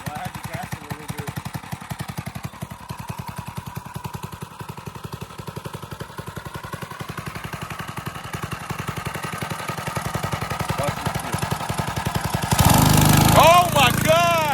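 Drift quad engine fitted with a Nibbi carburetor, running with a steady rapid single-cylinder pulse that builds slightly, then a loud burst of revving near the end, with voices in the background.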